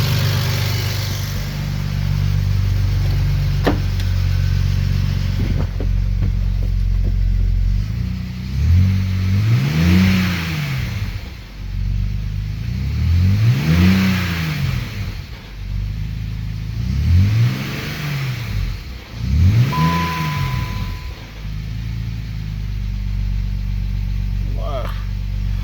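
A BMW X5 with a blown engine and a noisy valve idles close by, then revs four times in quick, even swells that each rise and fall back to a rough idle.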